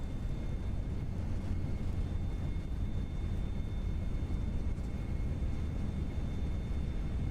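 Airliner reverse thrust roaring during deceleration after landing in the Prepar3D flight simulator, a steady, loud, broadband engine rumble with a faint high whine, continuous and unbroken with no talk.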